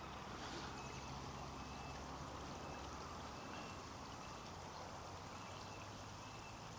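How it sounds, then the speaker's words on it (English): Steady broadband rush of a stream flowing beside a solo kayak campsite, continuous and fairly close with no voices over it. "the noise of the water, and that'll be nice"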